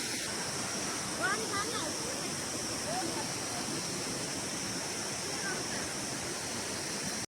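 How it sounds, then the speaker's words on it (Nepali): Water poured over hot motorcycle brakes on a ride to Barpak gives a steady, loud hiss that fills the whole stretch without a break, with faint voices now and then. "ब्रेक तात्छ र कम लाग्छ भने यसरी पानी हाल्न सक्नुहुन्छ।"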